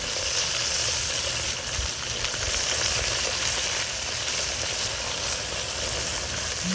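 A split spatchcock chicken sears in a hot pan, giving a loud, continuous frying sizzle that holds steady throughout, with no voices.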